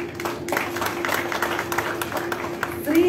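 Crowd applause at a Ganjar supporters' declaration event in Indonesia, steady scattered clapping from many hands under a faint hum, with a voice rising near the end.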